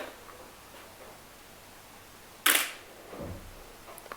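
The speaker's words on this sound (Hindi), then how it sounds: "अब हम फ़ोटो क्लिक करते हैं।" A Nikon D700 DSLR fires its shutter once at 1/60 s, a single crisp mechanical click-clack midway through an otherwise quiet stretch, followed by a soft rustle.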